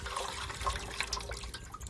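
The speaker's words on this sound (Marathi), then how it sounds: "तर बघा आपण पालकाची भाजी एकदम चांगली अशी धुवून घ्यायची" Fresh spinach leaves being washed by hand in water for a home-cooked sour leafy vegetable dish, with close, continuous sloshing and splashing and light drips throughout, no voices.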